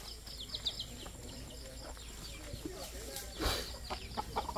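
A chicken clucks in short, faint, scattered calls outdoors in a rural spot in Quezon, with people talking quietly nearby and background noise throughout.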